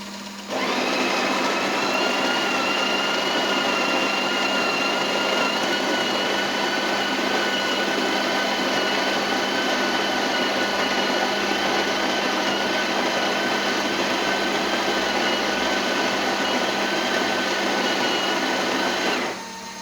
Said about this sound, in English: Let's go ahead and grind some coffee.